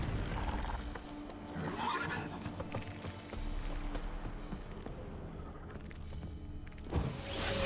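Roach, a horse in a video game, neighs and whinnies with clip-clop hooves running steadily underneath, fairly loud and continuous, with a brief burst of noise near the end.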